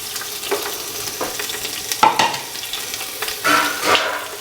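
Chopped onion frying in a pan, giving a steady sizzle broken by a few scrapes of stirring, close up and with no talk.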